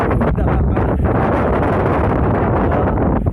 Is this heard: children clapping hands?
no